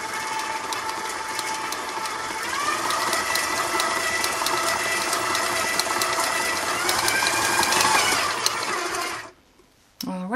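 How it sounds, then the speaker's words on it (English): A stand mixer runs steadily while it mixes flour into Linzer cookie dough, a close, continuous motor whine with a faint rattle that shifts up in pitch partway through and then cuts out near the end, with no talk. "I'm going to start the machine slowly so that I don't get a face full of flour."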